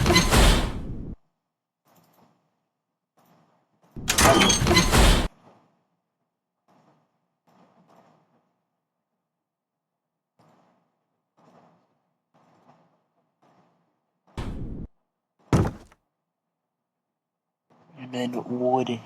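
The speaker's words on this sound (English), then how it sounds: "Maybe it's like something like this wooden crate sound." Wooden crate sound effects for a Roblox room game play as a few loud, short woody knocks and bursts, separated by long gaps where a voice talks faintly in the background.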